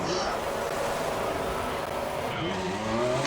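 A Force India Formula 1 car in a racing video game sits in a pit stop, a steady engine drone with a tire-squeal-like whine near the end and a commentator's voice over it.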